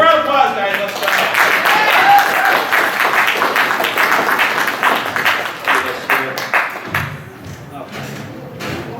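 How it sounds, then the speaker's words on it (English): Crowd applause for a contestant at a game-show event at an anime convention, steady clapping filling most of the stretch before thinning out, with voices mixed in. "All right, give her a round of applause, guys."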